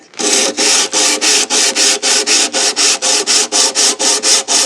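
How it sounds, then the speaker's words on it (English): A leveling bar is rubbed back and forth along a classical guitar fretboard, giving about sixteen regular, close, rasping sanding strokes in a steady rhythm, with no talk. "I'm going to go ahead and level it again with my leveling bar, concentrating on this end."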